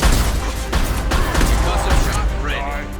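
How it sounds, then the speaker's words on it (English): A heavy gunfire volley in Mass Effect 2 rings out as a high-impact shot, several sharp reports and rumbling blasts packed into about three seconds, loud and close, with battle voices mixed underneath. "Firing a high-impact shot."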